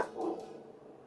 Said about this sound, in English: There's a puppy in my room barking